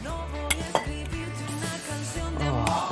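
Plates and cutlery clink at a table during a pasta meal, several sharp metallic taps and ceramic knocks over a soft background of music, close by.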